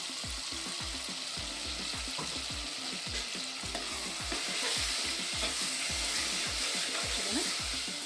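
Ground paste of cashew, coconut and coriander frying for vangi bath, a steady loud sizzle with a spoon scraping and stirring the pan in a repeated rhythm throughout.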